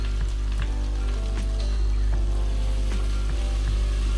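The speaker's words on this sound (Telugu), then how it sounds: "ఇప్పుడు మనకు ఆయిల్ వేడిగిన తర్వాత దీంట్లో ఇలా పొడవ కట్ చేసుకుని పచ్చిమిర్చి ఉల్లిపాయ ముక్కలు ఇలా చిన్నగా కట్ చేసుకున్న ఉల్లిపాయ ముక్కలు వేసుకొని బాగా వేపుకోవాలి" Chopped onions and long-cut green chillies frying in hot oil for a hotel-style mutton curry, a steady loud sizzle with faint crackles and pops throughout, no voices.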